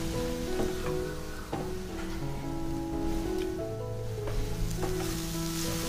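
Chicken fried rice with masala, fried egg and chicken pieces sizzles steadily in a hot pan while a utensil stirs and scrapes through it, with a constant close frying hiss and occasional clinks.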